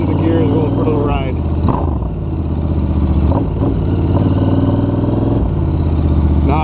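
A 2021 Royal Enfield Continental GT with Emgo slip-on exhausts rides through the gears, its engine note rising and dropping between shifts, loud and close throughout.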